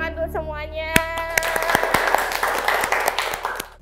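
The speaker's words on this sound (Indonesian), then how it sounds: "Tepuk tangan untuk semuanya." A group claps after being invited to, with dense applause building under a speaking voice, sharp individual claps standing out close by.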